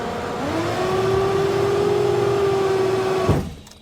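An aircraft landing gear motor runs with a steady, rising electric whine for about three seconds, then cuts off abruptly with a small clunk, close and fairly loud.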